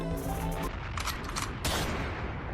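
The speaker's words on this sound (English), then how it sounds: "Drop a gunshot." Gunshot sound effect dropped into a comedy podcast: a burst of sharp, loud broadband cracks repeating in quick succession, like a volley of gunfire, standing alone with no talk.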